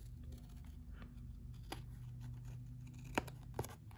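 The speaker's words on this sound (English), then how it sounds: "I have a little edge sticking out over here, so I'm just going to take my scissors." Scissors trim the edge of a paper chip bag with a few faint, quick snips, separate clicks against a quiet room background.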